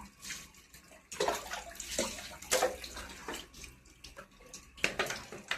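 Water splashes and pours in uneven bursts over air cooler pads during cleaning, close by, with brief gushes separated by quieter trickling; no voices.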